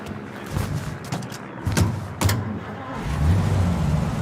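Car driving in Mafia: Definitive Edition, a steady low engine rumble with brief sharp clicks and thumps, the engine swelling louder toward the end.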